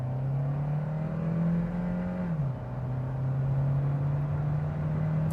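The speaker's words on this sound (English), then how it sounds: "unless you're really working the engine hard like I just was, it is not especially noisy" A Kia Sportage Hybrid with a CVT accelerating hard onto a highway, a loud steady engine drone that dips slightly in pitch midway and then holds, heard from inside the cabin.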